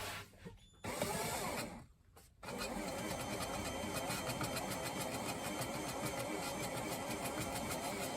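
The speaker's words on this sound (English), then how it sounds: "I can hear at least the difference. That grit sound is gone. And this polish is doing the job now." A valve seat is lapped with polish, and the grit sound has gone. There is a steady whirring, buzzing rotation with rapid regular pulses, broken by brief pauses near the start, then running on continuously.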